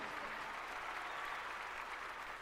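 A crowd applauds steadily at the 2012 Ohio state high school basketball final between Hiland and Jackson Center, with dense, sustained clapping and no voices.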